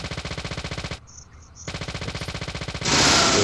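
Rapid automatic gunfire from a gun in the video game Deadly Premonition, loud close bursts broken by a short pause, then a harsh blast of noise at the end.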